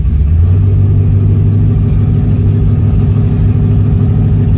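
A 1971 Chevrolet Chevelle's engine rumbles steadily from inside the car while driving on the road, a loud, low, continuous drone with road noise and no speech.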